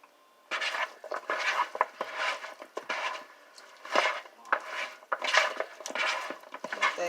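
Onion is stirred into vegetables in a pan, with repeated scraping and clacking of a utensil against the pan in an irregular rhythm, close and moderately loud.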